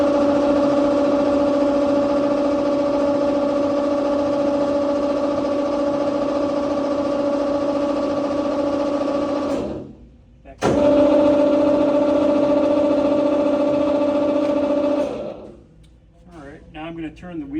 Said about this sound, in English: we're going to move the head up and down